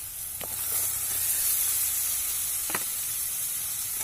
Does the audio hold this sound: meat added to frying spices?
yes